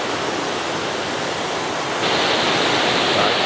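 A mountain river in the forested Arkhyz area near the Sofia waterfalls rushes with a loud, steady broadband roar. The flow grows slightly louder partway through, and no one talks.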